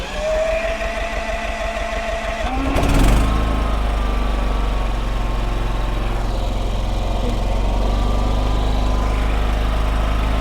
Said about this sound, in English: I'm going to start the generator up